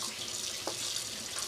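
Tap water runs steadily into a sink to rinse wooden spoons and kitchen utensils, a continuous bright hiss with a faint clink partway through, with no talking.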